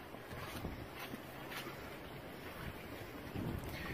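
Steady, loud wind buffets the microphone outdoors at a French drain installation where lightweight, buoyant aggregate is being blown about. The gusting roar stays constant throughout, with no other distinct sounds above it.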